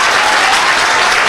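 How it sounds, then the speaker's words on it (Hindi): Audience applause for Ranjan Sir at a coaching institute talk, a dense, steady burst of many hands clapping throughout, loud and close, with no voices over it. "रंजन सर के लिए एक बार आप लोग ताली बजाइए"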